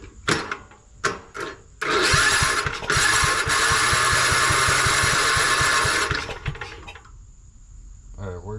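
An old, rare tractor that sat for 26 years cranks with a few sputtering pops, then its engine catches and runs loud and steady with a rapid chugging beat before cutting off. Close by, with no voices over it.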